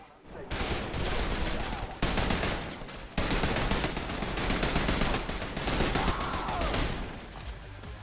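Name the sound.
suppressed gunfire in a video game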